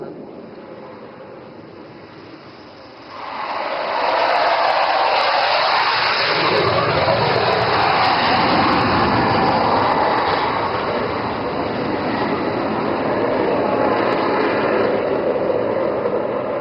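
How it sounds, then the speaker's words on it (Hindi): A Rafale fighter jet makes an overshoot pass at an air force display, its roar swelling from a distant whine into a loud, sustained rush that lingers as the jet moves on. "साइन अभिमन्यु 2 जिसका संचालन स्क्वाड लीडर चांदगुड़े कर रहे हैं, ओवरशूट के लिए अग्रसर है"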